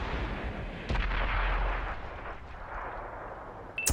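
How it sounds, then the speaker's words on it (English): Tank cannon fire and shell impacts in World of Tanks, a loud deep boom near the start followed by rumbling decay and a sharper crack at the end, heard with no talk over it. "Rupture gets hit in the ammo rack again. Takes out the IS-7."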